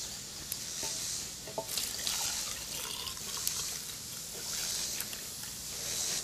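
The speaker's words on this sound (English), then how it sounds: "Let's see if we can pour some of this oil into this cup without creating a horrendous mess" Fuel oil poured into a cup, a soft liquid trickle with scattered small drips and splashes, fairly quiet and steady over a few seconds.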